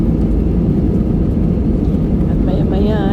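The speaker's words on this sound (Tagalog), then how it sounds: "At maya-maya, ito, lumilipad na itong eroplano namin na sinasakyan." An airplane in flight gives a loud, steady cabin roar with a heavy low rumble that never lets up. Near the end, faint whining tones rise and fall above it.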